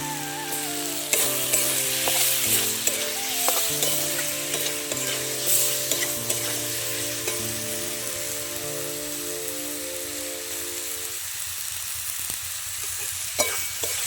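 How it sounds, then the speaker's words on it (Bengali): Boiled kohlrabi stirred and fried in a pan for a Bengali curry, a steady sizzle with scraping stirs, accompanied by sustained tonal background music, close and moderately loud. "ওলকপিটা দিয়ে আমি ভালো করে নেড়ে চেড়ে ভেজে নিয়ে আমি জল দিয়ে দেবো।"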